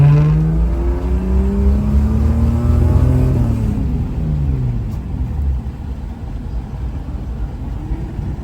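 Ecotec-powered VY Commodore on a drift lap at a sideways festival, its engine loud and close, rising in pitch through a long revving pull before dropping to a steady rough roar.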